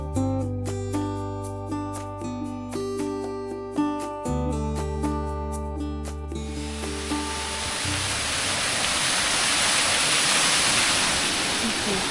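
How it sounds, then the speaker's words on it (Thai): Soft piano-like music plays first, then gives way to the loud, continuous roar of falling water at the Kozjak or Peričnik waterfall in Slovenia. The rushing grows fuller toward the end. "ข้างหน้าเป็นน้ำตก"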